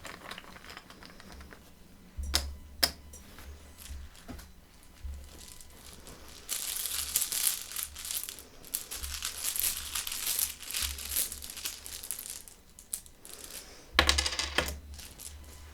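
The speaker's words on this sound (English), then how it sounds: "I use 2 bags of tokens" Small tarot reading tokens clink and rattle as they are drawn from two cloth bags, one big and one small, with crinkling rustles and scattered metallic taps close up and no talking.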